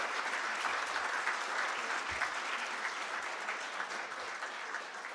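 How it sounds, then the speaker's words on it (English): An audience applauds the competing teams at an event with steady, dense clapping that holds evenly throughout at a moderate distance, with no speech over it. "please have a big round of applause for the teams who have come in such a short notice."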